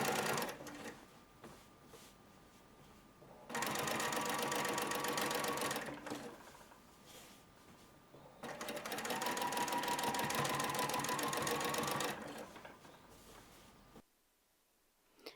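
Sewing machine topstitching a seam on harem pants, running in two long steady bursts of rapid needle stitching separated by quieter pauses with handling sounds, close and clear with no talk.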